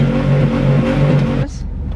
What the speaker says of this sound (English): What if we do the muffler at the same time? Can I do that? Can I rev it?